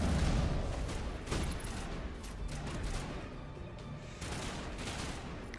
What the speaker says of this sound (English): Just love the sound of gunshots.